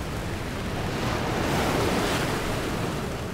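Stormy open-ocean waves surge and crash with a steady roar in a violent gale off the Juan Fernández archipelago, loud and continuous with wind noise throughout.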